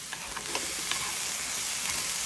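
Ground beef mixture with bouillon being stirred and mixed by hand for a game-day dish, a steady soft sizzling hiss with a few light scraping clicks, close and continuous.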